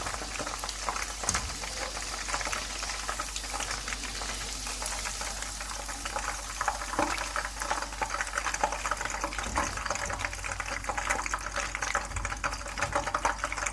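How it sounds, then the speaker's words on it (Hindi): Chicken pieces fry in hot oil in a pan over medium heat, giving a dense, continuous crackling sizzle at close range with no voices. "और जो बाकी का चिकन है उसे भी हम फ्राई कर लेंगे"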